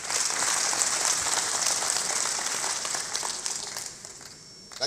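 An audience at a Nigerian accounting conference applauds, a dense sustained patter of many clapping hands that fades toward the end, with no speech over it.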